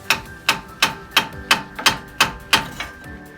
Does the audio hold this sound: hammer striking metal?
yes